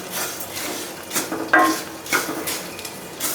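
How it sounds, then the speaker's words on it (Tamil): About 200 grams of raw rice being dry-roasted in a pan over a medium flame, with intermittent scraping and rattling stir strokes of a utensil against the pan over a soft, steady background hiss. "மிதமான தீயில வச்சு வறுத்துடுங்க"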